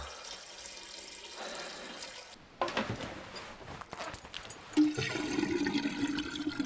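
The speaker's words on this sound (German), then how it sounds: "Ach so, die Spülung funktioniert aber." A toilet flushes in the video game Mundaun: a low hiss gives way to a rushing gurgle of water that swells and then settles into a steady refilling stream, moderately close.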